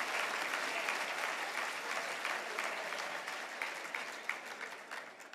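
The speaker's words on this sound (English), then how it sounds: "a big round of applause" A luncheon crowd at an annual Louisiana business event breaks into sustained applause, a thick, even roar of clapping that holds steady and tapers slightly toward the end.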